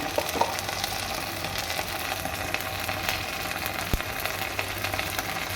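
Ginger, garlic and cumin paste frying in a pan with eggs for egg bhuna, a soft steady sizzle with a few faint scrapes and clicks, no voices.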